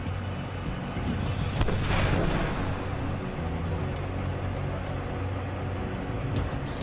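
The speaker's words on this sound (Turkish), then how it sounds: "patlama" A deep, distant demolition explosion at a military special forces training site rumbles out into a broad, sustained roar, with scattered crackles and clicks over the noise.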